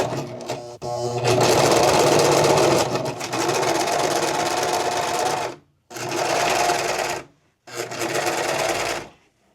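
Juki sewing machine stitching denim jeans, loud rapid mechanical chatter in several bursts separated by short silent pauses, close up.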